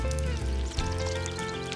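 Rain falling steadily on a yard, a soft continuous patter and trickle of drops with a low wash underneath, layered as a storybook sound effect with faint music beneath.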